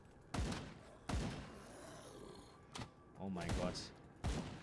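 Gunfire in the video game Grim Dawn: several sharp, spaced shots with booming tails, close and loud, with a man briefly exclaiming between them.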